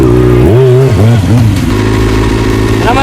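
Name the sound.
motorcycle engine revving while doing wheelies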